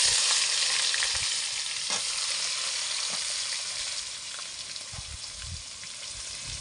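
Chopped onions and bay leaves frying in oil in a wok, with a steady bright sizzle and occasional stirring knocks, close and continuous.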